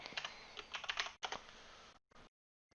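Fast typing on a computer keyboard, heard close, gives a rapid patter of clicks that pauses briefly, resumes, then stops, with one last faint tap after the silence.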